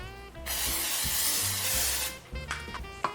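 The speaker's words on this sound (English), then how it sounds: "I'm gonna spray it with a little cooking spray." A single long hiss of cooking spray into a 9x9 cake pan lasts under two seconds, close and fairly quiet, followed by a few light clinks.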